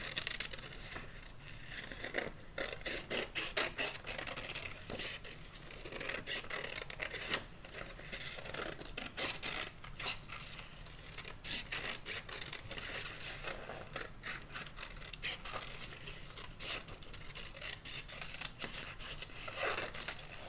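Scissors snip through paper as a hand shape is cut out, a long run of irregular close crisp cuts and rustles with short pauses between strokes.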